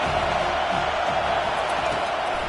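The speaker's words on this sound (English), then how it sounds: "Decibels rising as the crowd gets behind this defense on 3rd down." Football stadium crowd at a Florida State vs Penn State game roaring steadily for the defense on third down, a broad continuous wash of distant cheering with no breaks.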